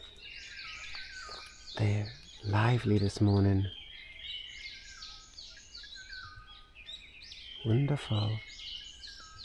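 Morning birdsong carries on as a steady layer of high chirps and whistles at a distance, while a close voice talks briefly over it in two short bursts.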